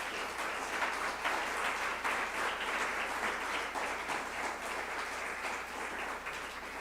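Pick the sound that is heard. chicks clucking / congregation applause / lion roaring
congregation applause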